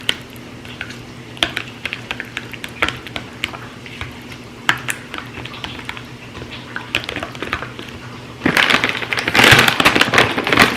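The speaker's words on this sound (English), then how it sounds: "just a little quick stir" Food stirred quickly in a pot during a morning kitchen routine, with sparse light clinks and taps over a low hum, then a louder scraping, rustling burst near the end.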